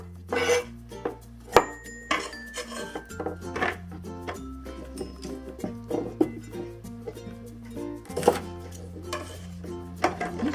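A knife cuts trimmed asparagus spears in half diagonally on a cutting board, giving sharp, irregular chopping knocks with occasional clinks and a ringing kitchen tone.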